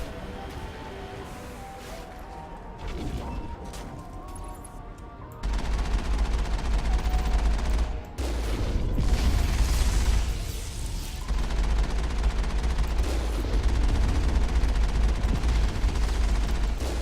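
Gunfire in the space shooter Mass Effect, a dense run of shots and booms with steady rumble beneath, continuous and fairly loud through most of the stretch.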